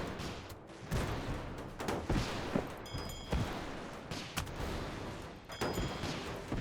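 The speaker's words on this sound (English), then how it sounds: "the mortar on the tank actually got him" Tank-mounted mortar in Airships: Conquer the Skies firing repeatedly, a string of sharp booms and cracks over dense rumbling battle noise, with no talking.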